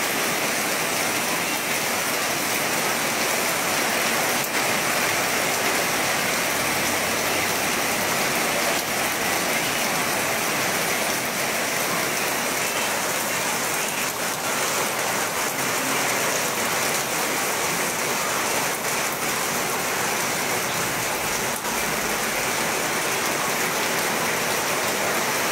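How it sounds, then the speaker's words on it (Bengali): Torrential rain pours across a wide area of Deganga, a dense, unbroken roar of water that stays loud and even throughout with no talking. "এই মুহূর্তে দেগঙ্গার বিস্তীর্ণ এলাকায় মুষলধারে বৃষ্টি শুরু হয়েছে"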